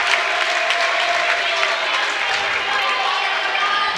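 Steady roar of a home crowd cheering and clapping at a high school homecoming volleyball match between Metamora and Pekin, broad and continuous for about four seconds with no single voice standing out.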